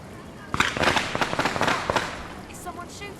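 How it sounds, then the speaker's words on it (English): Kids setting off fireworks outside in Paris: a dense burst of sharp cracks and pops, loud and close, crowding together for about a second and a half and then thinning to a few scattered bangs. "The kids are messing around with fireworks."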